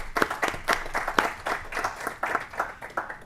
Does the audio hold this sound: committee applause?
yes